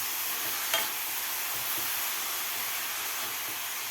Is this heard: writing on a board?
no